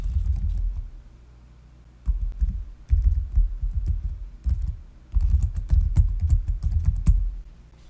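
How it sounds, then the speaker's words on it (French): Computer keyboard typing as an email address is entered during OneDrive app setup, irregular soft key taps in clusters with brief pauses, close and fairly quiet, with no talking. "Vous inscrivez votre adresse courriel."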